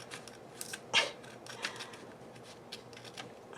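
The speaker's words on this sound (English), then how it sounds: "Having the hardest time hand cutting." Hand scissors snip through craft paper, with one sharper cut standing out among several light, quiet snips and rustles in a calm indoor space; no voices.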